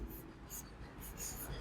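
Pen or chalk writing a math formula, a few short scratchy strokes in quick bursts, close and quiet, with faint breathy talk underneath.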